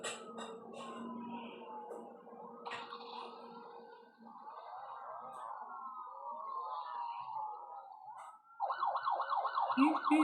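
Police car siren in a police simulator video game, with the car driving through deep water: a steady wailing siren rises loud near the end, over earlier engine and watery gurgling noise.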